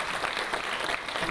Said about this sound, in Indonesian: tepuk tangan dong untuk Vision Plus.